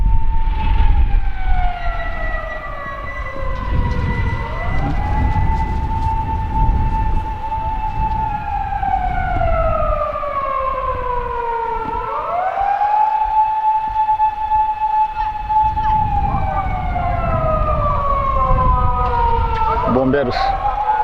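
A loud wailing police siren rises and falls in long sweeping cycles, close by and dominating, with traffic rumble beneath.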